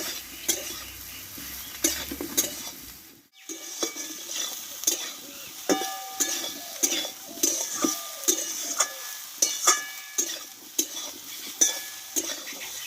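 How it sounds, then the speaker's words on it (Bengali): Soybean chunks and potato sautéing in a pan with raw tomato, a spatula scraping and clinking rhythmically against the metal over a soft continuous sizzle. "আর সোয়াবিনটা ভালোভাবে কষিয়ে নেব"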